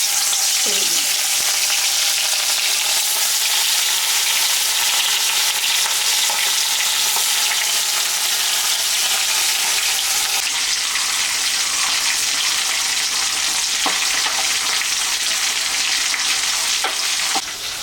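Mrigal fish frying in hot oil, a steady loud broadband sizzle lasting throughout, with occasional crackles and a brief stir near the start, no talking.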